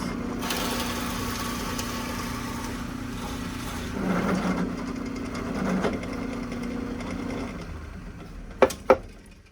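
A drill press bores a hole all the way through metal with a worn bit, a steady mechanical whir of motor and cutting running close and loud, swelling midway, followed by two sharp clicks near the end.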